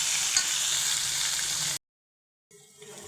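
Steady, dense sizzling of ground small-onion chutney sautéing in hot oil for almost two seconds, then a sudden silence, then the sizzle resumes more faintly.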